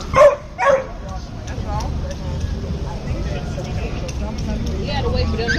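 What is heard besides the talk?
young dogs barking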